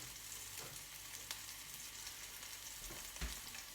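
Onions and garlic sweating in a pan for a meatball tomato sauce give a steady, soft frying sizzle with faint stirring scrapes, quiet and continuous, with no talking.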